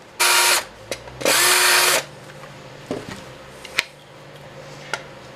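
An electric drill bores a hole in a wooden cigar box for a guitar build, two loud whirring bursts close up, followed by scattered clicks and small knocks.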